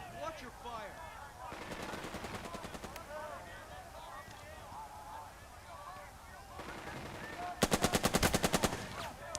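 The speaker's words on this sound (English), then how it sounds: "There's machine gun." Machine gun fire in a Sicily beach battle in the Burden of Command war game: two sharp, rapid bursts of automatic fire, the second louder, with distant battle noise between them.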